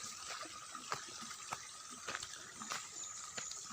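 Palm sap (nira) from a sugar palm (enau) tree, collected for making moke in a Flores village, pours and splashes in a steady liquid gush with scattered knocks and clinks, fairly close.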